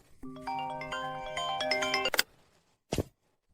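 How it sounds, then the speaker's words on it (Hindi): A phone ringtone plays a short melodic electronic tune of stacked tones for about two seconds, then stops, followed by a brief separate burst of noise; fairly quiet, with no voices. "मीरा, फोन उठाओ"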